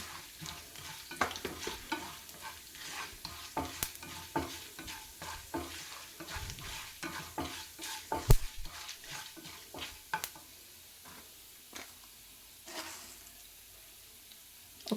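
Whole spices with black peppercorns, coriander seeds among them, fry in a pan for curry leaf rice, with repeated stirring scrapes and clicks over a steady sizzle, close and moderately loud throughout.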